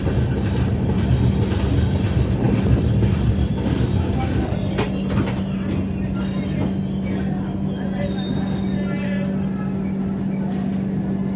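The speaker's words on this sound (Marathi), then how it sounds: "आता आपली गाडी आली आहे कृष्णा जंक्शनला" A passenger train pulls into Krishna junction in the evening, heard from on board as a loud, continuous rumble with a steady low hum and occasional clanks and squeals, while voices murmur faintly beneath.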